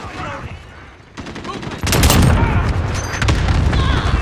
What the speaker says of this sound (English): Run away, there's bombs falling